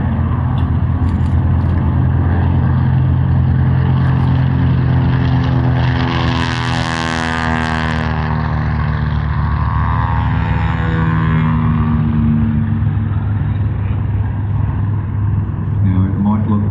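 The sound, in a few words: Grumman Avenger WWII single-engine aircraft flying at airshow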